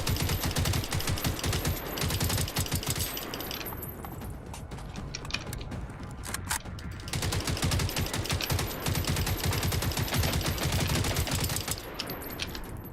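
Rapid automatic gunfire from the Terminator video game fires in dense, sustained bursts against a large group of enemies, with a brief lull in the middle before the shooting resumes at full intensity.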